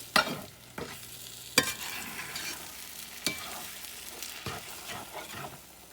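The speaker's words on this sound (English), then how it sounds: "That skillet's so hot, it will not take it long to scramble your eggs" Eggs scramble in a very hot skillet with a low steady sizzle, broken every second or so by sharp scraping knocks of a spatula pushing them around, close up with no voices.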